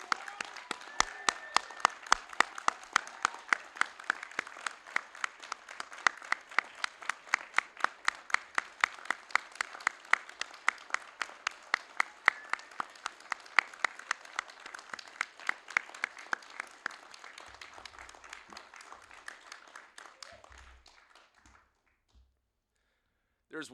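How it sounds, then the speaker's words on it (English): Sustained applause from a Coast Guard graduation ceremony audience honoring new boatswain school graduates: dense, even clapping for about twenty seconds that thins out and fades to silence. "Would you please join me in a round of applause for the graduates of Boatswain Day School 2502"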